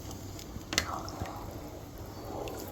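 Water is poured into a cooking stew, making a brief splash and trickle that fades over a faint, steady background.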